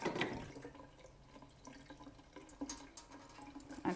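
Tap water runs into a sink as sushi rice is rinsed under the stream, a soft, steady splashing trickle with faint drips, close by and quiet, with no talking.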